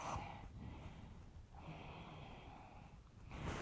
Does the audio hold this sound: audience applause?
no